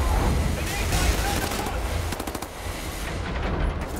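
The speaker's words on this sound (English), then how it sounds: "Small arms fire is utterly useless on that thing." Rapid machine gun fire from the Wolfenstein: The New Order video game, a dense continuous burst with sharp repeated cracks, loud and close, running under game voices and noise throughout.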